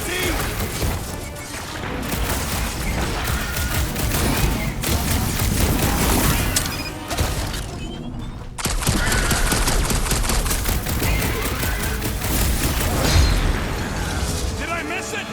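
Rapid gunfire in the video game Guardians of the Galaxy, dense continuous bursts of shots with booms and crashes, loud and close, with a brief break midway before the shooting resumes.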